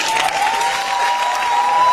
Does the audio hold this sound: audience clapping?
yes